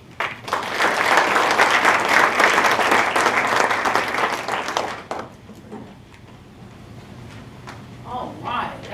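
Loud, dense applause from an audience after a coffee cafe business pitch at a small business launch competition, lasting about five seconds before dropping away, followed by faint murmuring and a voice in the room.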